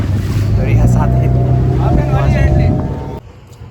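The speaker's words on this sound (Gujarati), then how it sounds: "ફાઇનલી બોટિંગ કરી છે, સ્પીડ બોટિંગ દરિયા સાથે." A speedboat roars across the sea near Bet Dwarka, its motor droning loudly amid wind buffeting, with people talking over the engine noise before it suddenly drops away.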